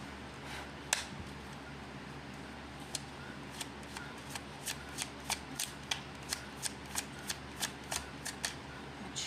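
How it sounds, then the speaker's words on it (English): Playing cards are shuffled and handled at a tarot-style reading, a run of crisp riffling snaps and flicks that speeds into a quick regular series of clicks near the close. "let me switch cards"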